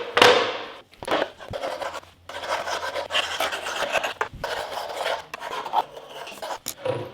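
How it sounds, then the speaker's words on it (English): A tool scrapes repeatedly across bonding primer paint, giving rough raspy strokes that come in uneven bursts, close and fairly loud with no talk. "Even where I didn't sand, you can see I can't really scrape that off"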